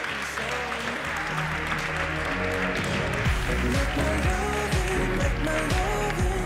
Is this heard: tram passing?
no